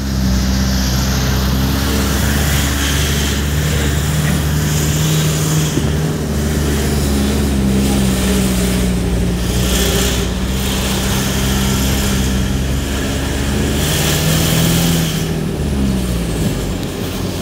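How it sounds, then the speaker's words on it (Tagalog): Cars idling and creeping in a long traffic jam, steady engine drone with low rumbling tones and occasional rising revs, close and continuous with no talk. "Ang haba ng traffic, oh."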